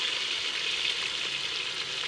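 Chopped tomato and chilli hit lightly browned onions in a hot pan, giving a soft, steady sizzle and frying hiss that holds evenly for a couple of seconds with no voices.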